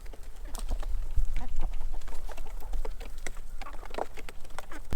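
Busy, continuous clucking from a small flock of chickens, with overlapping short calls and scratchy bursts throughout, fairly close.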